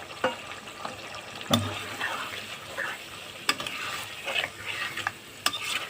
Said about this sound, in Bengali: এবার ভালো করে কষিয়ে নেব মশলার সাথে আলুটাকে, যাতে একটু সেদ্ধ হয়ে যায়।